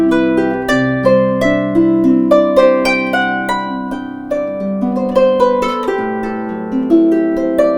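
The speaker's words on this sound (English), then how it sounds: "So that's the sound of the harp." A harp amplified through a Transformer C3 microphone plays a flowing passage of plucked notes and ringing chords, close and full with a steady rhythmic pulse and long overlapping sustain, with no voices.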